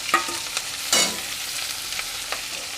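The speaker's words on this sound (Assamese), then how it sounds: "এতিয়া মই পিঁয়াজ আৰু জলকীয়াটো ফ্ৰাই কৰি ল'ব" Onions and green chillies fry quietly in a pan for chicken curry, with a soft steady sizzle broken by a few light stirring scrapes.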